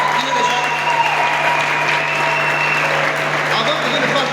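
A wedding congregation at a nuptial blessing cheers and applauds, loud sustained clapping and acclamation filling the room, with a steady hum underneath and voices mixed into the crowd noise.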